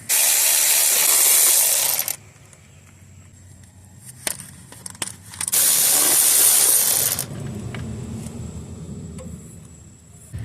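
A ratchet working on 12mm bolts under a Toyota Camry 2.4 to free the intake, loud hissing bursts alternating with quieter stretches of faint clicks and metallic knocks, close and without talk.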